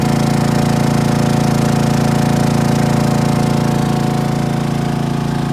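A new Honda EU2200i inverter generator runs on propane through a conversion kit, giving a steady, loud, unbroken engine hum with a constant low drone throughout and no voices.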